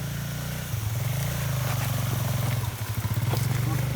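A motorcycle labours along a rough, extreme mountain trail toward a hiking route in Aceh, its engine droning steadily and close, pulsing as the ride jolts over the uneven ground.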